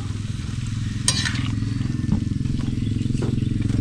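String beans sautéing in a pan, a steady sizzle and crackle with occasional scraping stirs, under a low background hum.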